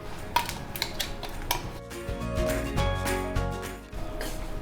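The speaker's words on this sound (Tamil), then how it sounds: "நல்லா ஒரு பிரட்டிப்போம்." A spoon scrapes and clinks against a metal cooking pan while peanut rice is stirred, in a steady close run of metallic scraping with no talk.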